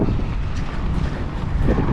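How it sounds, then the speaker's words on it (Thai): Steady wind buffets the microphone during an outdoor run along a Thai road, a continuous low rumbling roar that swells and eases without pause and carries no speech. "อากาศดีครับวันนี้มีลม"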